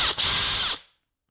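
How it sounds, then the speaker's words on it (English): A power drill driving a Forstner bit into a workpiece while hollowing a cavity for a small tube amplifier chassis, a loud, close, steady whine lasting under a second with a brief dip, then cutting off. "we're going to drill the holes in exactly the same way. And use your forstner bits to hog out the majority of the cavity."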